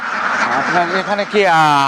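Harsh, nasal duck quacks in a steady stream, close by and loud, with a brief dip before a louder burst of quacking at the end.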